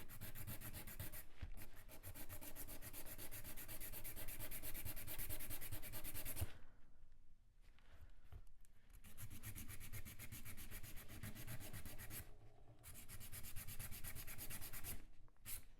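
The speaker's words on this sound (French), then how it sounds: "Donc je mets bien ma lime à plat et contre mon ongle et je viens commencer à limer." A nail file is held flat against a gel nail, rasping in quick, steady back-and-forth strokes, close and fairly quiet, with short pauses between bursts of filing.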